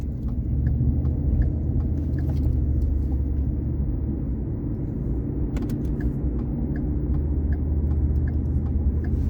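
A car drives along a road with a steady low engine rumble and tyre noise from inside, continuous and fairly loud with faint clicks, no talking.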